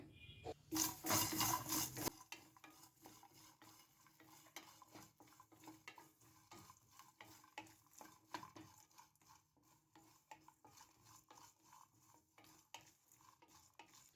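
A brief burst of sizzling opens, then a spoon scrapes and stirs sliced coconut and spices in a pan for mutton gravy, with soft, irregular clinks and taps.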